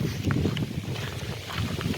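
Strong gusting wind buffets the microphone outdoors in the Canadian Badlands, a steady low roar with rising and falling surges throughout and no voices.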